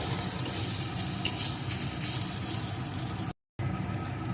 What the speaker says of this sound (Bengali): কিছুটা পরিমাণ নারকেল কুচি এখন আবারও ভালো করে ভেজে নেব যতক্ষণ না নারকেলটাও কাঁকড়ের সাথে ভালো রকম ভাজা হয়ে যায়